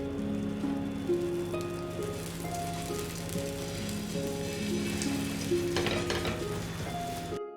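Baby corn sizzles in a lightly oiled pan over very low heat, a steady close crackle with scattered pops running continuously throughout, no voices.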